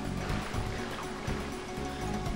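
Rushing, steady water noise from a waterfall in the Agrabah world of the Kingdom Hearts video game, a continuous broadband roar with low surging swells and no speech.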